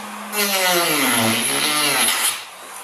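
A power drill with a cutting bit whines loudly as it grinds through a nylon sheet, the pitch dipping under load then rising before it stops after about two seconds.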